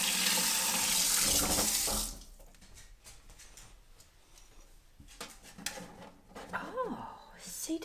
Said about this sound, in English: Mom's going to get the water running.